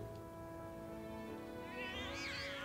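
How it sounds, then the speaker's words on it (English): Cats meowing in the Final Fantasy 7 Remake video game: a faint, drawn-out mew rises near the end over a steady, soft musical background, with no voices. "Aw, kitty cats."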